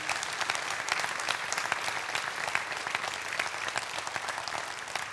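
Church congregation applauding during a Sunday service, steady dense clapping from a large crowd throughout, fairly distant and even, with no voices over it.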